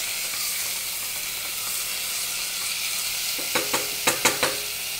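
Soaked moong dal sizzles in a hot tempering in a pan, a steady soft frying hiss, joined near the end by a few sharp scraping clicks as a spoon stirs it.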